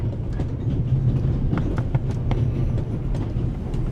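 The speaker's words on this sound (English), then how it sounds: "The noise on this train is driving me crazy." Noise of a train carriage on the Orient Express in the video game The Raven, heard as a continuous loud low rumble with a steady rhythmic clatter on top, running throughout with no talk.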